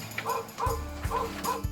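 A small electronic toy dog on a lighted rotating hearing-test display yips in a quick regular series of four short barks, thin and toy-like, over a faint background hum.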